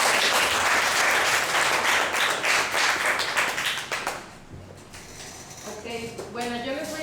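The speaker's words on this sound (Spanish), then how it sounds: "un aplauso para Elvia" Audience applause at a talk, dense clapping filling the room for about four seconds before thinning into scattered claps, with a voice starting to speak as it fades.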